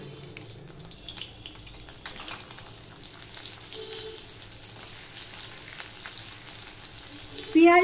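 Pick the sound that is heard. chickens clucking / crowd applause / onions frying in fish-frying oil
onions frying in fish-frying oil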